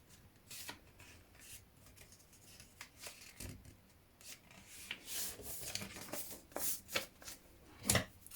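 Fabric for a sewn purse being folded in half, with soft rustling and rubbing of cloth in uneven bursts and a sharper scrape near the end, close and quiet, with no talk.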